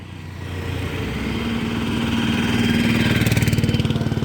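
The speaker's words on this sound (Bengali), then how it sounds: "আরে গাড়িটা বন্ধ করে নেমে এসো।" A Tata Nano's small engine idles steadily close by, a low rhythmic thrum that grows slightly louder and rougher toward the end, with no voices over it.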